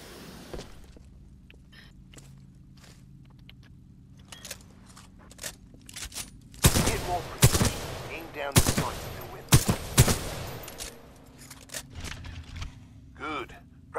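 Weapon fire on a shooting range in the video game Titanfall 2: several loud sharp shots and short bursts cluster in the middle, with quieter clicks and handling noise before and after. A voice talks faintly at times.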